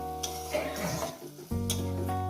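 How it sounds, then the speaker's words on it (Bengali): Masala for a fish curry frying in a pan over medium heat, a close sizzle broken by stirring scrapes, with a brief lull in the middle before a fresh burst of sizzling. "এবার এটাকে ভালো করে চার মিনিট ধরে চার পাঁচ মিনিট ধরে কষিয়ে নেবে"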